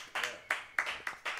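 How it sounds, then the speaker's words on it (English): A few band members at a livestreamed jazz quintet gig clap for the guitarist, five sharp separate bursts of handclaps in an uneven rhythm, close and fairly quiet in an otherwise empty room. "There's no one here to clap, but we'll clap for you."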